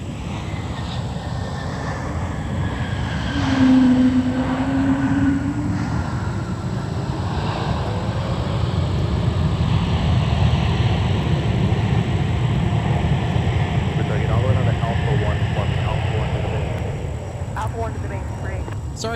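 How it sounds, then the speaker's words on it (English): Delta Air Lines Airbus A220 airliner from Santa Ana, California at Minneapolis–Saint Paul (MSP) airport: a steady, broad jet engine roar running throughout, with wind noise, swelling slightly mid-clip and fading near the end. "Here's Delta 2185 from Santa Ana, California with the A220."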